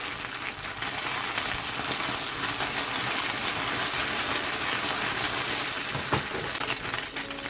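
A steady, dense sizzle of gyoza dumplings frying in a hot pan, with faint occasional clinks, continuous and fairly close.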